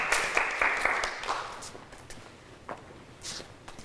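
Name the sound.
audience applause for a speaker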